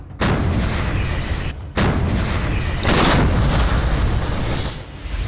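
Heavy artillery cannons, Indian Army K9 Vajra and M777 howitzers, fire in a few powerful, rumbling blasts, each followed by a long roaring echo that fills the space.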